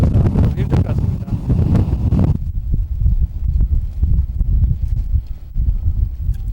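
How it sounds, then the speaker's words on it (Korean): Strong wind buffets the microphone at a cable-stayed bridge construction site on the Geoga Bridge project in Korea, a loud, continuous low rumble with gusty bursts that ease slightly after the first couple of seconds. "역시나 바람이 심합니다."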